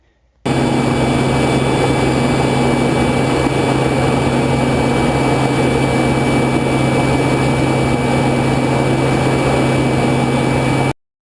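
A steady, unbroken jet engine drone inside a U-2 spy plane flying at 70,000 feet, a loud constant roar with a low hum and faint high whine, no voices, starting and stopping abruptly.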